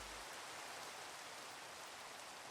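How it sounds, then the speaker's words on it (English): Steady, hissing rainfall in Minecraft, an even wash of drops falling continuously with no breaks, soft and uniform throughout. "Oh, it started to rain."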